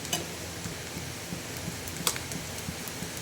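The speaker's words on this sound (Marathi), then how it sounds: "त्याला 1 मिनिट तरी होऊ द्यायचं, परतून घ्यायची ती भाजी व्यवस्थित" A vegetable coated with gram flour being stir-fried in a pan, giving a soft, steady sizzle with light scraping and tapping of a spatula against the pan, faint and close, with no talking.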